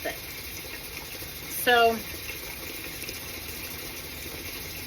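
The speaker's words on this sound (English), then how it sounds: "Once I'm at a rolling boil, I'll start the timer for 10 minutes, let it boil" Water churns at a rolling boil in a water-bath canner while jars of water are processed, a steady bubbling hiss heard throughout, broken briefly by a short spoken word.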